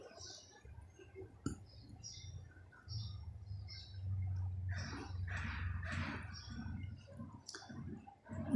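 Mustard seeds splutter in hot oil with scattered sharp pops and crackles over a low bubbling, close and fairly quiet, growing busier toward the end.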